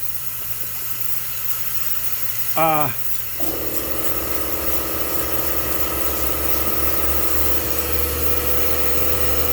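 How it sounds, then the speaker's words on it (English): Compressed air leaks past a rubber gasket near the head bolts of a Chevy S10 2.2L cylinder head on a pressure test plate. A steady hiss runs throughout, broken by a brief rising squeak near the start. "there's a little bit of air coming out of the rubber gasket up around the head bolts"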